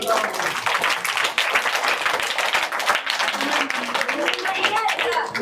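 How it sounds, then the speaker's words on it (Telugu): Students in a school break into lively clapping that blends into applause, with the spoken voices of the group running along under the claps. "వెరీ గుడ్ క్లాప్స్ కొట్టండి"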